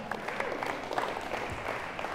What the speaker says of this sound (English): Yes, that's worth a clap.